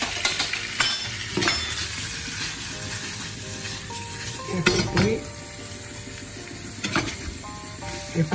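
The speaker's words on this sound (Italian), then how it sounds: "Allora, mettiamo un goccino dell'acqua della pasta." A splash of starchy pasta water hits a hot pan of penne with eggplant, cherry tomatoes and onion, setting off a steady loud sizzle, with spoon scrapes and metal clinks as it is stirred, up close.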